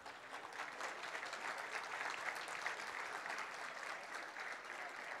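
Sustained crowd applause at a collective wedding ceremony in Boca del Río, dense steady clapping from a large audience that holds at an even level throughout.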